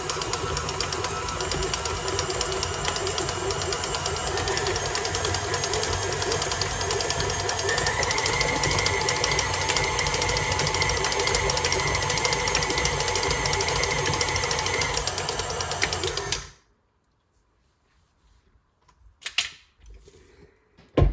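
An electric mixer beats gluten-free keto Christmas butter cookie dough with a loud, rattling, clattering whir that runs continuously, then cuts off abruptly, followed by a few faint knocks in the quiet.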